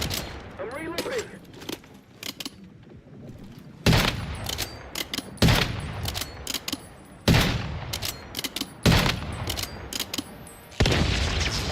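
Gunfire in the video game Once Human comes in loud, rapid bursts, one volley after another every second or two, with brief quieter gaps between them.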